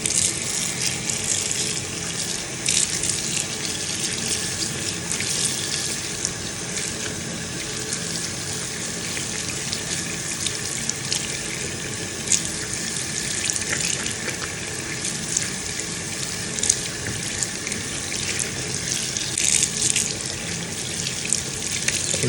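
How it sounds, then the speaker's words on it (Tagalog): Water runs steadily from a faucet as hair is rinsed after shampooing, a continuous close hiss and splash with no talking. "After ma-shampoo, banlawan."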